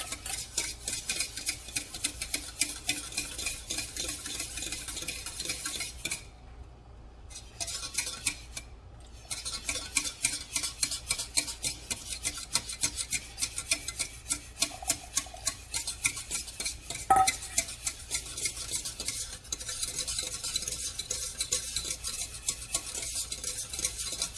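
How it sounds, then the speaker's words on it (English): A spoon stirs chocolate bread pudding mixture into chocolate milk in a pot, scraping and clinking steadily and rhythmically against the metal for a long stretch, with a few brief pauses and no talking. "And I'm going to add it to the chocolate milk. Mix it in."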